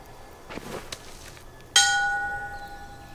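A single bell in The Walking Dead: The Final Season is struck once, ringing out loud and clear and then fading in a long, shimmering decay after some quiet rustling.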